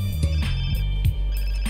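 A cell phone ringing in the video game GTA San Andreas, a short synthetic ringtone with a few repeating tones over steady low game background hum, no talking.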